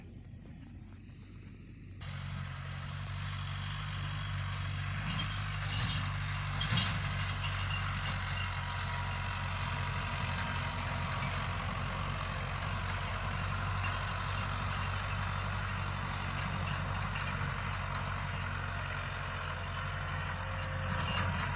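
A low, steady engine idles continuously close by, a constant rumble with a faint rattle, starting after a brief quieter moment.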